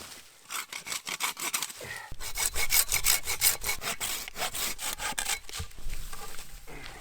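Hand saw cutting through wood for campfire firewood at a cold-weather campsite, a steady run of rhythmic back-and-forth strokes, close and fairly loud, with a brief pause before the sawing picks up again.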